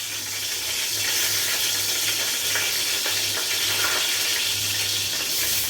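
Whole cinnamon, cloves and cardamom frying in hot oil for chicken biryani, a steady close sizzle running throughout with faint stirring and a low background hum.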